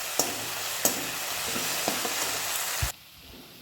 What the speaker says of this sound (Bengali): তারপর নেড়ে চেড়ে অল্প পরিমাণে একটু ভেজে নেব।